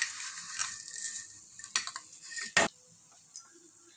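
Roasted vermicelli is stirred into boiling water in a pot for a sweet dish, with metal spoon scrapes and clinks against the pot, a few sharper knocks, and a soft bubbling underneath.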